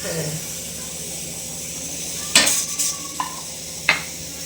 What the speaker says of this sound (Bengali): তিলটাকে একটু ভেজে নেব। আচ্ছা, ড্রাই রোস্ট করে নিতে হবে।